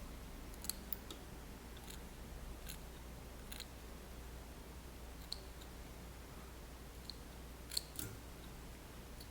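Small scissors trimming fly-tying material, giving quiet scattered snips and clicks at irregular intervals over a faint steady background hiss.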